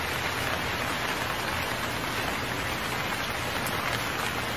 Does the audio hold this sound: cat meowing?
no